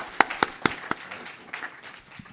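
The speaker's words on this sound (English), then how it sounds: "Please give another round of applause to our great panel." A conference audience applauds a panel at the end of a panel discussion on Black migration: a few sharp, separate claps near the start, then a softer, scattered patter of clapping that fades out.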